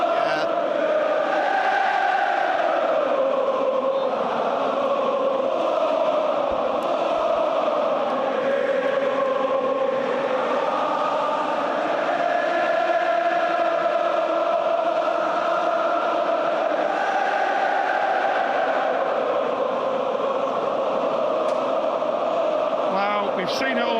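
A large football stadium crowd at a Liverpool match sings an anthem in unison, a loud, sustained wall of massed voices holding long melodic notes throughout.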